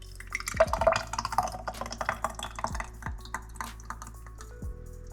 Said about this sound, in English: So we're about to pour it into these jars